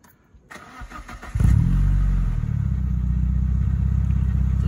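A Toyota Corolla 160i GLS cranks and fires up, then settles into a loud, steady, deep idle with no one talking.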